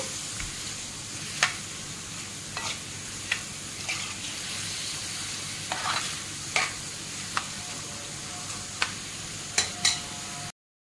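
Boneless chicken sizzling and frying in a pan, a steady crackle broken by repeated sharp scrapes and clinks as it is stirred, close and fairly loud with no voices.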